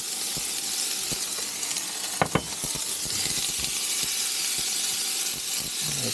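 Vegetables hit hot sesame oil in a pan on an induction cooktop inside an Airstream motorhome, making a steady, fairly quiet hiss. A couple of sharp pops and clatters stand out near the middle.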